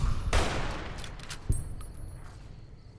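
Gunfire in Fallout New Vegas, a loud near shot at the start followed by a sharper single report about a second later, with the echo fading out after each.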